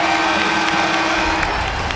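Home basketball crowd at a Notre Dame men's college game against Penn State roaring steadily after an offensive foul is called, a loud, dense wash of cheers and applause filling the whole two seconds.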